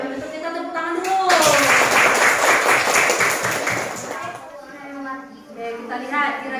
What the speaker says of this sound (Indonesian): Untuk kita tepuk tangan dulu.